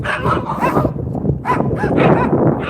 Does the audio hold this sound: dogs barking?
yes